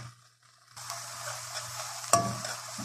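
Ground meat fries in a pan with a steady sizzle that starts after a brief quiet moment, with a sharp clink of the stirring utensil partway through.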